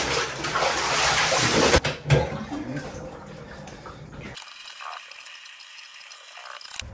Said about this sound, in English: we're gonna do the cold water rinse right now